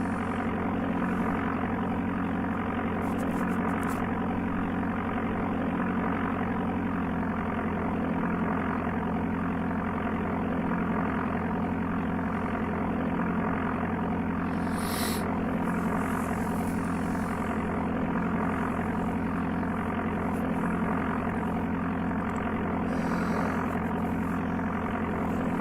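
Propeller aircraft engine droning in the Amiga game Flight Simulator II, a steady continuous hum at constant loudness throughout with no talking.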